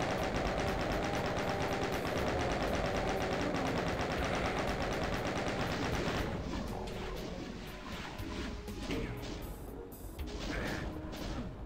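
Rapid, loud machine-gun style fire rattles continuously in Doom 2, thinning out partway through into scattered shots and crashes.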